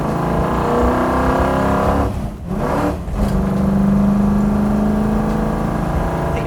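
A steady, loud engine hum with a low throbbing drone, briefly dipping before settling back into an even, continuous run.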